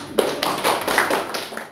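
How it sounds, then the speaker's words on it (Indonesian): Students applauding in a classroom, a short burst of brisk, uneven clapping from a small group that fades out within two seconds, with no voices. "Terima kasih Jul, tepuk tangan."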